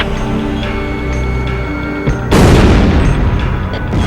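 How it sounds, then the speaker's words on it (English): Bombs exploding in the Ace Combat Zero video game: a steady engine drone is broken by one sudden, heavy, booming blast that rolls on loudly for the last couple of seconds. "They're just tossing bombs all over the place."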